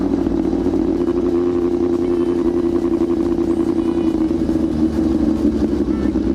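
A loud Yamaha R6 motorcycle is ridden, its engine holding a steady, buzzing, rough drone at constant revs, close and dominant throughout with no pauses.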